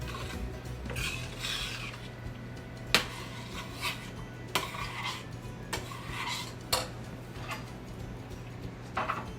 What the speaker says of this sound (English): I'm going to just stir that up real well